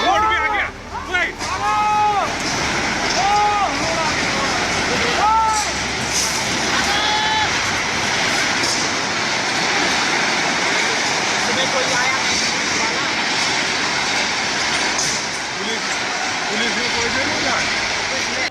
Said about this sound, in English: Like dominoes, these buildings collapse straight into the water.